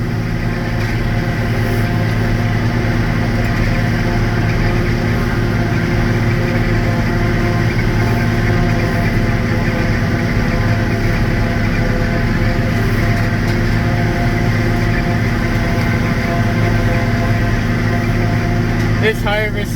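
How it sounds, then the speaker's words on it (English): Tractor engine laboring steadily while pulling a corn silage harvester at about two miles per hour, a loud continuous droning hum with machinery whine, a voice talking over it throughout. "This harvester and corn can really make this tractor work."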